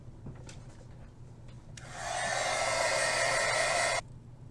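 A handheld dryer blasts air over wet paint on a small artist trading card, switching on with a loud steady whoosh for about two seconds before cutting off, with faint tapping of tools before it starts.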